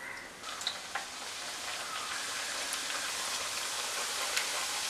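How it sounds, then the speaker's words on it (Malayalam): Homemade two-ingredient evening snacks fry in hot oil at medium heat, giving a steady, even sizzle with faint crackles throughout and no voices. "ആ ചൂടായ എണ്ണയിലേക്ക് ഓരോന്നും ഇട്ട് കൊടുത്ത് ഇത് ഫ്രൈ ആക്കിയെടുക്കാം."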